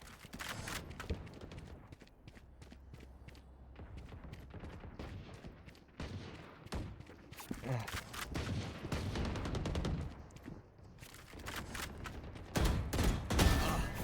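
Video game gunfire crackles in quick repeated bursts of shots, fairly quiet but steady, with heavier volleys near the end and no clear talking.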